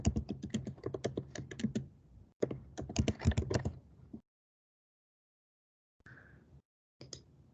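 Rapid clicking keystrokes on a computer keyboard while a command is typed, in two dense bursts followed by a pause and a few final key presses, close and clear with no talking.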